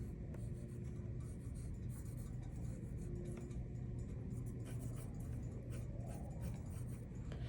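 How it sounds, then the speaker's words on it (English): Pencil lead scratching lightly across paper while sketching letters, a soft continuous rasp of close strokes over a low steady background hum, quiet throughout. "I'm gonna very lightly start drawing the rest of my letters"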